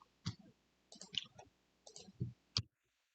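Sharp mouse clicks at a desk while working in an Excel planning tool, a few isolated clicks and short clusters spaced irregularly, close and clear with no talking.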